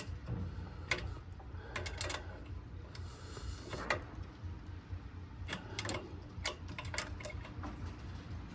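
A wrench tightening a turbo fitting on a Buick Grand National, close irregular metallic ticks and ratcheting clicks scattered over a low garage hum.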